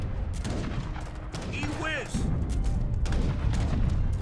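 Cannons fire in an Age of Empires III battle, with dense booms and rumbling blasts running through the whole short stretch and a brief whistling sweep in the middle.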